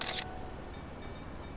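A camera shutter fires once in Grand Theft Auto V, a short bright click at the very start, then quiet game ambience.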